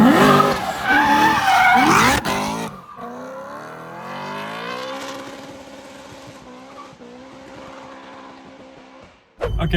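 A 750HP BMW E90 M3 clutch kicking into corners on a mountain road, tires squealing loudly at first, then the engine revving and droning while the pitch shifts, ending with another sudden burst.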